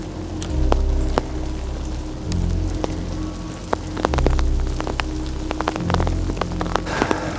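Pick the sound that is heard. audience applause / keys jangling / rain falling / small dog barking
rain falling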